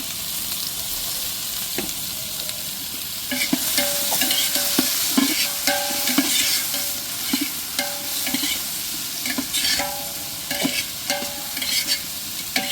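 Chillies, tomatoes and bay leaf frying in a pot for biryani, a continuous sizzle with repeated rhythmic scrapes and clinks of a ladle stirring, near and moderately loud, with no speech.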